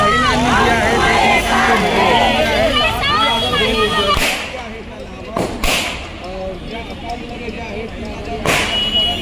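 Firecrackers at a women's celebration pop in a few sharp, loud bangs amid a lively crowd, with voices and cheering running underneath throughout.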